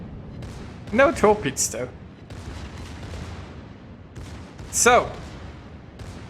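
Secondary guns of the Schlieffen battleship in World of Warships fire a steady stream of booming shots beneath a player's talking.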